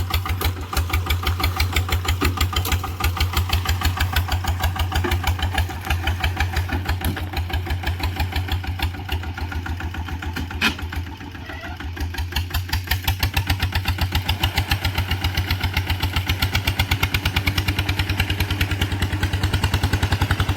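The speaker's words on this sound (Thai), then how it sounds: "อ้วนยังไม่มาดับเครื่องเลยเนี่ย" A diesel engine idles steadily with an even, rapid thumping pulse and a deep low rumble, close and continuous throughout with no talking.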